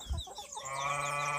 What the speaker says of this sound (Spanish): Esos dos son gallos